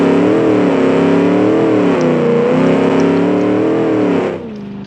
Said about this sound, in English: This actually has a working engine that doesn't want to die out.